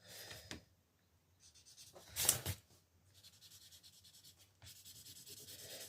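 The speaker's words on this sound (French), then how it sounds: "on va les colorier" Colouring in an Easter drawing comes through as short bursts of close, soft scratchy rubbing, separated by quiet gaps, with one louder scrape partway through.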